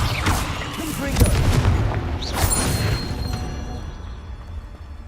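A Confringo blast spell explodes in Hogwarts Legacy: a loud boom with crackling fiery bursts and a rumbling tail, under game voices and effects.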